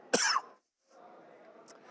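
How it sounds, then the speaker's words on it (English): A single sharp, close cough bursts out, followed by a short pause and then a soft, low murmur. "Sorry, I got cough."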